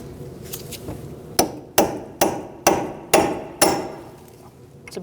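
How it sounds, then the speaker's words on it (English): Hammer striking a cold chisel to peen over a lug nut on a 2002-2006 Toyota Camry axle, heard as a few light taps and then six loud, ringing metallic blows at an even pace, with no talking. "Now we're going to peen over our nut using a cold chisel and a hammer."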